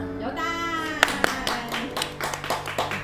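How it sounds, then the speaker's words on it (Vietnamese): A small group claps hands at a surprise birthday gathering, a few sharp claps then a ragged run of quicker ones over a sustained musical tone, with brief talk mixed in. "Vỗ tay."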